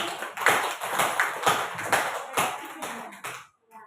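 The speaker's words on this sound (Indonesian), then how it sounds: "Boleh Bapak Ibu tepuk tangan untuk Bu Rizka dan Pak Juli." A small audience at a counselling workshop claps for two people, with irregular, fairly close hand claps in loose rhythm that stop abruptly before a short quiet tail.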